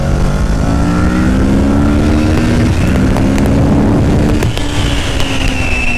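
Kawasaki Ninja 650 sports-tourer motorcycle accelerating along a seaside road, with a loud, close engine note climbing steadily in pitch under rushing wind noise.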